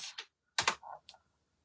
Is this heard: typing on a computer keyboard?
yes